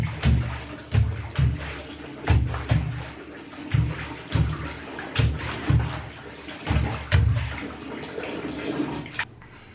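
Water runs from a tap into a bathtub at home in surges of splashing gushes roughly every second, close and fairly loud, then stops abruptly at the end.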